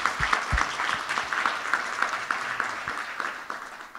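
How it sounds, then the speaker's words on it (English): An audience at a conference keynote claps together in a steady, dense round of applause, moderately close, with scattered individual claps standing out and no talking over it. "So how about a round of applause for Claudia?"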